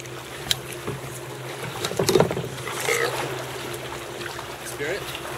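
A kayak paddled on the Colorado River, with water swishing and splashing in short strokes close by while people talk.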